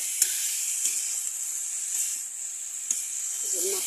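Vegetables frying in a pan: a soft, even hiss of sizzling with a few light clicks, fairly quiet, and a brief murmur of voice near the end.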